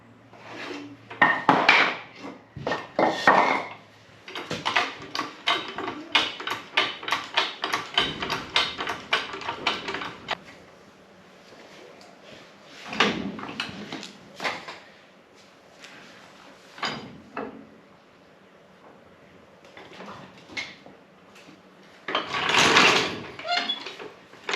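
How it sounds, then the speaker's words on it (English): Wooden blocks are knocked out from under a Holden LC Torana with a series of sharp wooden knocks, taps and clatters. Dense bursts of hits are separated by quieter gaps, and everything sounds close. "Knock out a few more bits of wood."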